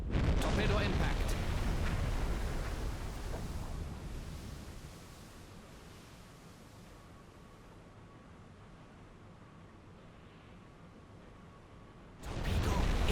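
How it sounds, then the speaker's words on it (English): Torpedo impact in Silent Hunter 5 sounds as a heavy explosive roar that swells and then fades into a long, low rumbling wash, with another loud surge bursting in near the end. "Torpedo impact."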